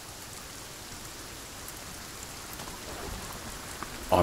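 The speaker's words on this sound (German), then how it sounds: "Oh, das geht richtig schön hier mit dem Regen." Steady rain falls in the survival video game Sons of the Forest, a soft, even patter on the ground that swells slightly toward the end.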